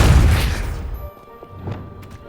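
A Depulso spell in Hogwarts Legacy slams into a pile with a deep, heavy boom and rumble, then falls away into a few scattered knocks and clatters of debris settling.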